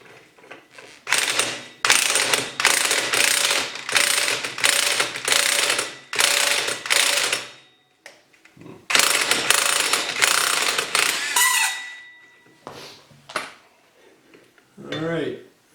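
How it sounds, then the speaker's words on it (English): A Can-Am clutch puller being worked to pull the primary clutch off a Can-Am Outlander XMR 850 gives loud, fast ratcheting bursts, repeated in long runs with short pauses, then tapering to lighter clicks. "Got the Can-Am puller. Pull the second half off."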